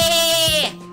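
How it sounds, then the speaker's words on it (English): A single loud, close sheep bleat, a wavering nasal cry lasting under a second before fading out. "Sheep."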